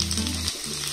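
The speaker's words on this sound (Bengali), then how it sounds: "টমেটো, কাঁচা লঙ্কা, ক্যাপসিকামটাকে দেখুন একটু নাড়াচাড়া করে হালকা করে ভেজে নিয়েছি" Tomato, green chilli and capsicum fry lightly in a pan, a close continuous sizzle with soft stirring over one brief moment.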